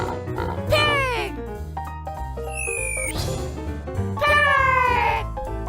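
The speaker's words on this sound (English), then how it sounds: "Pig!" Cartoonish pig oinks and squeals from a baby animal-sounds programme: several bright, swooping squeals in separate bursts, loud and close, over a steady musical backing.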